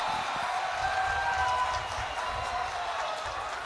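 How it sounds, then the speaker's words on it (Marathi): A large crowd at an outdoor political rally in Amravati applauds steadily, a dense wash of clapping and cheering held at an even loudness throughout, with a faint whistle-like tone and murmuring voices mixed in. "एकदा जोरदार टाळ्या वाजवून आपण स्वागत"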